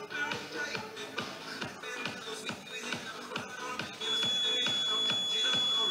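A workout timer beeps during an abs and cardio session, a steady high-pitched tone that starts partway through and holds over rhythmic background music.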